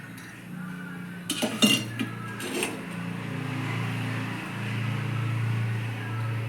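A dosa griddle set down on a stove for an egg curry, a cluster of metallic clanks and clinks early on followed by a low, steady hum from the cooktop.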